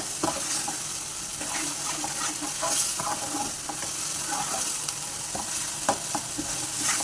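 Green chilli keema, minced meat, sizzles steadily in a pan while a spoon stirs it with scattered scraping clicks, a continuous close hiss with no talking.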